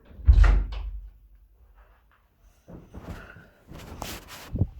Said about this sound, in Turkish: Kapıyı kapatmıyor ya. Kapıyı kapatsana.